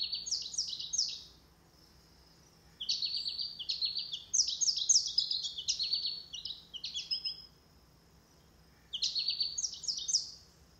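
American goldfinches at a feeder give bright, rapid twittering song phrases in three bursts, with quiet gaps between them, over faint background hum.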